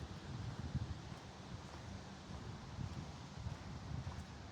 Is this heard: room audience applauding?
no